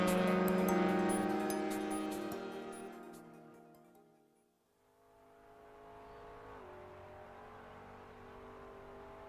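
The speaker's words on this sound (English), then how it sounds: "it's going to be GT3 cars tackling this place today" GT3 race cars circulating the Okayama circuit in the iRacing sim, engines loud and harmonic in the opening seconds, fading briefly, then a steadier, softer drone of cars running again with gear-change pitch shifts.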